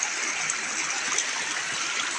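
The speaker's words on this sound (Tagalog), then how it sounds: "kusog kain tubod no" Water pours steadily from Tubod Gaang, a natural spring in the hills of Tuburan, Cebu, a strong continuous rushing flow heard close up with no other sounds over it.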